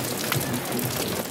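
Rain falling at an outdoor fair makes a dense, steady patter and hiss on surfaces, moderately loud and even throughout, with no voices heard.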